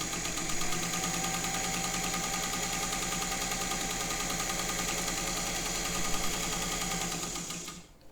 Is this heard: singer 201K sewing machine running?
yes